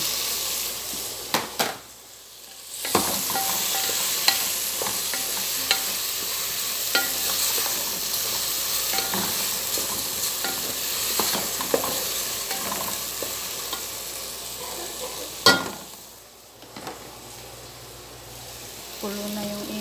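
Potatoes fry in a pan with a steady sizzle and frequent stirring clatters close by, the crackle dipping briefly twice, while a voice talks intermittently over it.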